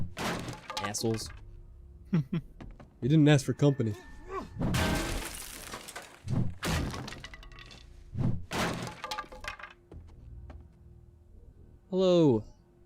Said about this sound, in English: Stop banging on the door.